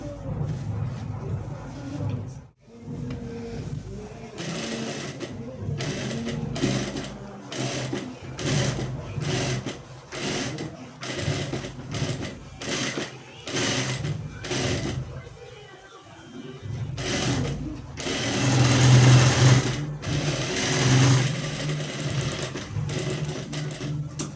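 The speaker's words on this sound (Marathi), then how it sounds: "आता आपण शिलाई मारून घेऊया." A sewing machine stitches a blouse back neck design in short bursts of rapid mechanical whirring, stopping and starting repeatedly, with a longer louder run near the end, heard up close while someone talks between runs.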